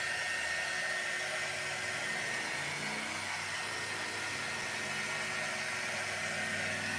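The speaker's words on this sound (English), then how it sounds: "With my heating tool here, also from Magnolia. We want to make sure it's nice and dry." A Magnolia heat tool blows steadily as it dries paint on a painted sign, giving an even, loud, close whooshing drone with a faint motor hum that runs unbroken from start to end, with no voices.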